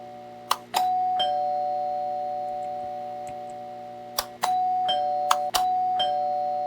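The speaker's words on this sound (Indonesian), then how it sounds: "kalau kita pencet bunyi tingungnya" A doorbell chime sound effect in an Unreal Engine 4.27 horror game rings as a clean electronic ding-dong three times, first near the start and then twice close together near the end, with sustained tones between presses and no talk.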